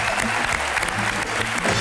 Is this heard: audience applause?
yes